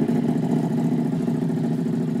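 A brand new Honda motorcycle engine idles steadily at close range, a low even throb that holds without change and has no talk over it.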